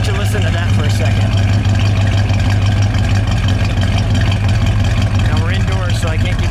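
A 1972 Plymouth Duster 340 V8 idles loud and close indoors, its steady low rumble continuing throughout, with a voice talking over it at times.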